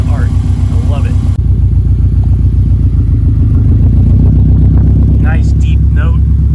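A Subaru STI with a lightweight titanium exhaust idles with a steady, deep, close engine note, while someone talks over it throughout.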